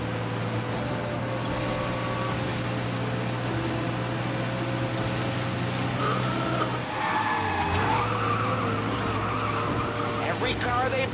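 Cars roar and skid through a chase in Mafia Definitive Edition, with a constant engine drone, tire squeals rising near the end, and characters talking over the loud, close action.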